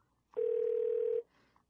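A steady telephone dial tone sounds while a call is being placed, one continuous flat tone lasting under a second that starts and stops abruptly. Soft background noise from a radio studio surrounds it.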